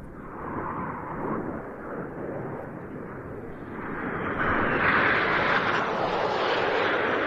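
Aerobatic display jets in tight formation roar past at an air show, a broad jet rumble that swells and brightens as the group approaches and passes, loud and continuous with no talk.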